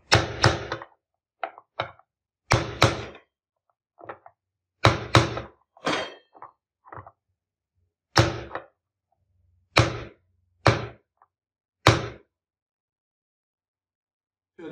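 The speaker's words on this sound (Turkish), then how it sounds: "O tok sesi duyana kadar çakalacaksınız." A bearing is hammered home with a series of loud, solid, close thunks spaced about a second apart, with pauses between groups, until the blows sound firm.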